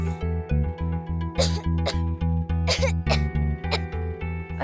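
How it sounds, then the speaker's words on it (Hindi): A man coughs heavily and repeatedly in rapid bursts over a droning musical underscore in a TV drama scene. "अरे, इसे तो बहुत ज्यादा खांसी हो रही है।"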